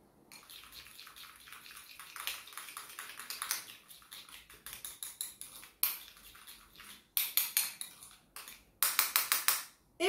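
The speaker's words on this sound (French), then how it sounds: "Et je mélange de nouveau." A spoon stirs a henna, oil and local honey mixture in a bowl, making rapid repeated wet scraping strokes in quick rhythmic bursts, close and fairly soft, with no talk.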